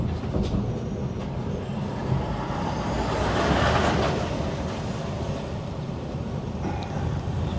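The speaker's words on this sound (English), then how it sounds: "So the front of his cab go down then, as he hit the brakes." A big lorry on a London street near the Science Museum, a broad rumbling roar of heavy engine and traffic that swells in the middle as it brakes, with a faint hiss, continuous and fairly close.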